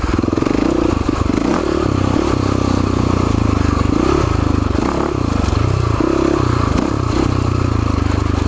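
Husaberg FX450 dirt bike ridden on a steep, off-camber technical trail, its four-stroke engine droning loud and close with rising and falling revs, plus occasional scraping and clattering from the ground.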